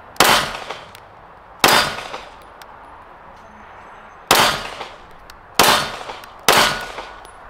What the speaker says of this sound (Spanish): Voy a seguir disparando.